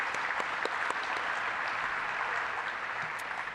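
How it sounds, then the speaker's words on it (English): An audience at a city summit applauds in a dense, continuous roar of clapping. A few sharper claps stand out near the front, and the level holds steady throughout. "I think we should give them a round of applause."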